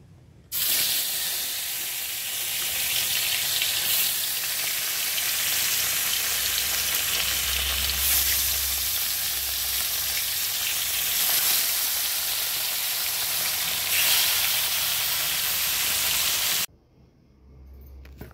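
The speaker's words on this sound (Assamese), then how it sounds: "প্ৰথমতে মই মাছখিনি একদম ফ্ৰাই কৰি ল'ম।" Fish sizzles in hot oil in a pan, the first step of an Assamese sour fish curry with thekera, frying with a loud, continuous hiss for about sixteen seconds before it cuts off abruptly.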